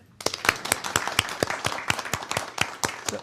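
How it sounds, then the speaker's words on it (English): Small audience at a school board meeting clapping for an honored staff member, a sparse, distinct round of individual claps from a handful of people, steady and fairly close in a quiet room. "Hey, a round of applause for Heather."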